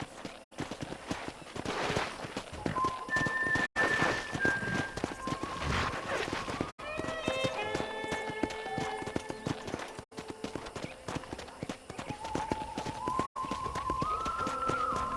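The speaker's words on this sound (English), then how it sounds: "I picked out a fine horse for you. Giddy up!" Horse hooves clip-clop in a steady galloping rhythm, joined by jingling tones and a brief whinny, like game sound effects, from Red Dead Redemption on a ranch.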